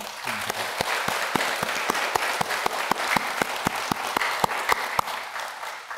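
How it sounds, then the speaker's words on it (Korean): Listeners at a Buddhist dharma talk clap together in a brisk, even round of applause. Distinct hand claps ring out in a quick, regular rhythm over the massed clapping for several seconds, with nobody talking. "박수 한번."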